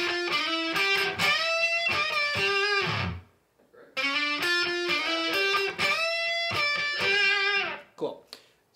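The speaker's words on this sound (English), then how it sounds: "let me play the lick one time without that backing track. It sounds like this." An electric guitar plays a blues rock lick with no backing track: two clear, bright phrases of bent and picked notes, each ending with a held note, separated by a short pause.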